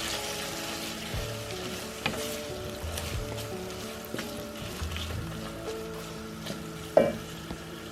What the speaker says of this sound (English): These veggies have been sauteing for about 5 minutes